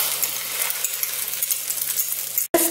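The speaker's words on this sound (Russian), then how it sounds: "Сковородка разогрелась, готовим на среднем огне." Food fries in vegetable oil in a pan over medium heat, a steady dense crackling sizzle that continues evenly, with a brief clank near the end.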